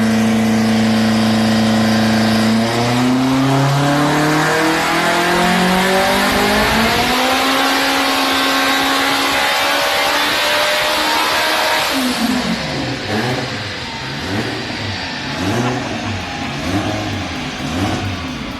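A turbocharged D16 Z6 drag car launches hard on a record-breaking run, its engine climbing through rapid gear changes in a loud, continuous wail, then dropping into a choppy, pulsing tone near the end, with no voices present.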